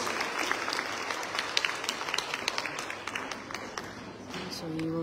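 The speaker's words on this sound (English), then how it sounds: "A round of applause." Audience applause fills the hall at a graduation ceremony, steady clapping from many hands at moderate distance over a murmur of the room, with a voice over the speakers coming in near the end.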